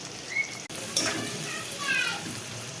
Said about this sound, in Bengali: এই দেখো ভাজার তেলে দিয়ে দিচ্ছে এবার পেঁয়াজ কুচি।